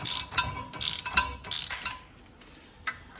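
A ratchet tightens a Porsche tie rod end during an adjustable bump steer install, giving several bursts of close, rapid clicking with short pauses between them before things go quiet.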